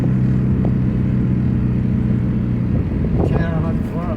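Original square-body VW Voyage with air suspension: a deep, loud engine rumble holds steady close by, then rises into a few quick revs near the end while people talk over it.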